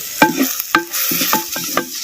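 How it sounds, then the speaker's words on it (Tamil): Ground masala sautés in oil in a pan, a steady hiss of frying under repeated scraping strokes of a ladle, four or five distinct stirs at close range with no speech. "சேர்த்த மசாலாவை நல்லா பச்சை வாடை போகிற அளவுக்கு அப்படியே எண்ணெயில் நல்லா வதக்கி விட்டு"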